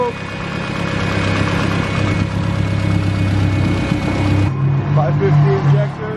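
Turbocharged Honda Civic with a D16 engine running on straight E85 idles steadily in the engine bay, a close, continuous low hum with a faint whine, its pitch stepping down briefly near the end.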